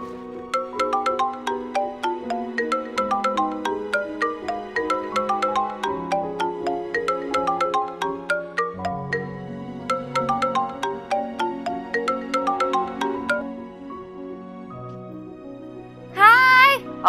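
A melodic telephone ringtone plays loud and clear, a repeating tune of bright plucked notes for about thirteen seconds, then fades before a brief voice at the end.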